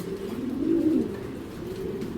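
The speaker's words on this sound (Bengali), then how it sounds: "কবুতরটা দেখেন," A racer pigeon coos close by, one clear, throaty, rolling coo rising in the middle of a steady low murmur of other pigeons, with no voices.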